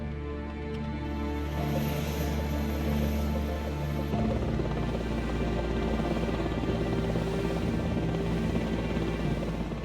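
A Royal Navy helicopter airlifting sailors from a warship, a continuous loud rotor and engine drone with a steady layered hum throughout, no talk.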